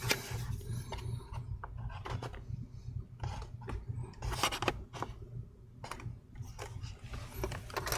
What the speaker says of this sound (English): I'm using a metal prying tool just to get enough room for me to stick in a plastic prying tool